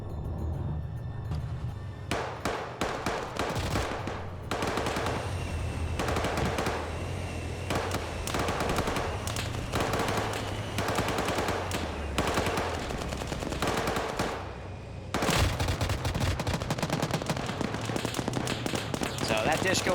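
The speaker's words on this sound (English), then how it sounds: "That Dishko was firing, but it just got ripped apart by a 50" DShK heavy machine gun in a video game firing repeated hard, rapid bursts, with sharp cracks of other gunfire mixed in and a voice talking over the shooting throughout.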